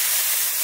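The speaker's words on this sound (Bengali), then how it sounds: "একটু জল দিলাম" Water hits vegetables frying in hot mustard oil with turmeric and salt, letting out a short, loud burst of steamy hiss that holds steady for under a second.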